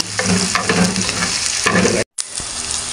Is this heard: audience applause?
no